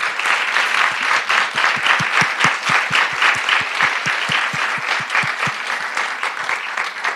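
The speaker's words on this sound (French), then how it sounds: "Je pense qu'on peut vous applaudir" An audience at a parenting conference on welcoming emotions applauds the speaker, sustained dense clapping with a few louder distinct claps close to the microphone.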